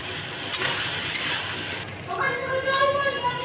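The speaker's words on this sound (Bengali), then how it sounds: "টমেটো কুচি দিয়ে ভালো করে মশলাটাকে ভেজে নেব" Spices with chilli powder and salt fry in a pan for a drumstick, bori and potato curry. Two sharp stirring scrapes cut through the sizzle before a voice speaks over the frying.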